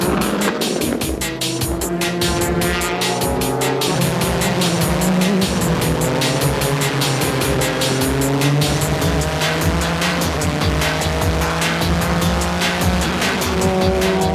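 Nissan Z and Toyota Supra JGTC race cars roar at full throttle, engines rising and falling through gear changes with tire squeal, loud and continuous with no voices.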